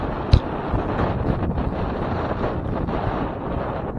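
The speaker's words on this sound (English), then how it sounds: "It got really windy really quick." Steady wind buffets the microphone with a low, gusty rumble, broken by one brief thump early on.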